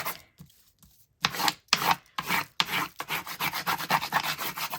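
Wrapping paper burnished by hand, a close dry rubbing and rasping in repeated strokes that start after a near-silent second and settle into a steady back-and-forth rhythm.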